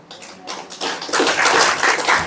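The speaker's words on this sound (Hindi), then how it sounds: "एक बार फिर तालियां बजा दे" Congregation at a church service clapping together, the claps building from scattered to a dense, steady rhythm across the room, fairly close and loud.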